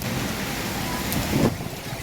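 Heavy rain pours steadily, a continuous hiss of falling water with a brief louder gust near the end.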